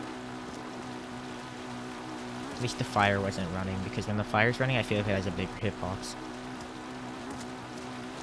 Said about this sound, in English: this is my least favorite place for it to be raining other than Zora's Domain